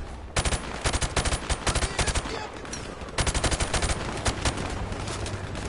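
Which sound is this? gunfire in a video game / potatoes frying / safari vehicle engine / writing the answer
gunfire in a video game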